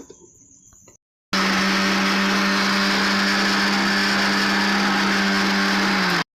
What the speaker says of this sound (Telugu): ఈ ఆకులు వేసిన జార్ని తీసుకొని మిక్సీ మీద పెట్టి